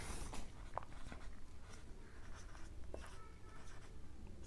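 Chalk or marker writing on a board in a chemistry class, scattered short scratchy strokes with small pauses, fairly faint and close, with no talk.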